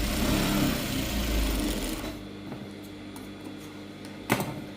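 A sewing machine topstitches over tucks on a gown, running steadily and close for about two seconds before stopping, followed by quiet handling noises and a brief knock.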